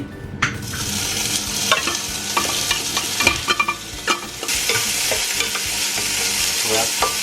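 Thai surf clams stir-fried in a little olive oil for an instant-noodle dish, loud close sizzling that swells as they hit the pan, with busy spatula scrapes and clatter throughout and no talking.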